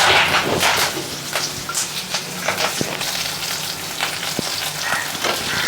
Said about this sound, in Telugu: ఇప్పుడైతే నేను తాలింపు వేస్తున్నాను.